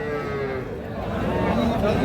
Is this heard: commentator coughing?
no